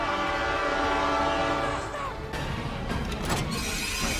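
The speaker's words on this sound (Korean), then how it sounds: "정면에선 기차가 달려옵니다" A train rushes head-on through a tunnel in a movie scene, a loud continuous rumbling roar with a sustained horn-like tone that swells and then breaks into crashing, clattering noise near the end.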